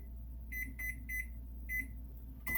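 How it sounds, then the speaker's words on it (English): A microwave oven gives a series of short, clear electronic beeps while it is being set and started, with irregular gaps between them and a louder final beep, all over a steady low appliance hum. "I'm going to go ahead and put these in the microwave"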